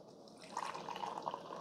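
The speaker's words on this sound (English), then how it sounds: "Let's see how the carafe pours." Hot coffee pouring from a BUNN coffee maker carafe into a cup, a short steady trickling pour of liquid, close and fairly quiet.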